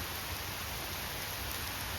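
Heavy rain roars in a constant, even wash of noise, close and loud throughout.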